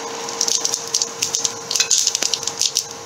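Cumin seeds dropped into hot oil alongside dried red chillies, a close crackling sizzle with rapid spitting pops bursting irregularly over a steady hiss.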